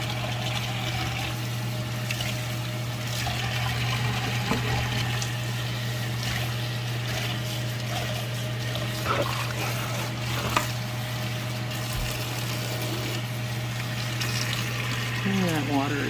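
Hot tap water runs steadily from a faucet during kitchen cleanup after a catfish fry, a continuous close splashing flow with a constant low hum beneath and a few brief clinks on top.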